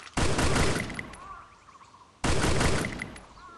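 Two loud bursts of rapid gunfire in the Free Fire battle game, each a dense crackling volley that fades into ringing echoes before the second burst hits.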